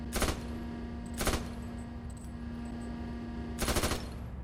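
Machine-gun fire rings out in a WW2 Poland campaign game, three sharp loud bursts spaced apart over a steady engine hum, with no talk.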